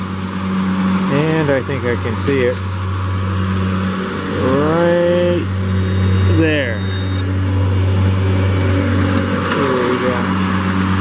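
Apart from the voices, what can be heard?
lawnmower engine running nearby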